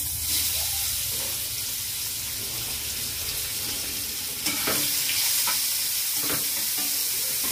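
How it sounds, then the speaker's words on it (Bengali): Fish frying in hot oil for a potol dolma recipe, a steady close sizzle running throughout with a few light clinks and stirring sounds near the end. "এটা গরম হয়ে গেছে, এখন মাছগুলো দিয়ে দিচ্ছি।"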